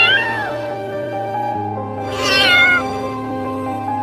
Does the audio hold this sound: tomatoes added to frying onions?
no